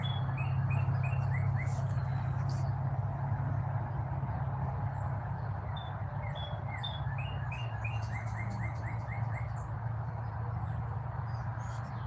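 Birds at a campsite repeat quick, high chirps and short trilling calls over a constant low hum, sounding fairly faint and a little distant, with no talking.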